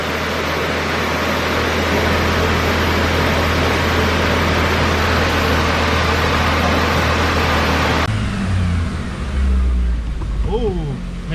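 1986 Plymouth Voyager van with a 2.2 liter engine pulling hard in 3rd gear on a dyno, a loud, rising, strained engine roar over rollers that drops off sharply near the end as the engine winds down, with a voice coming in afterward.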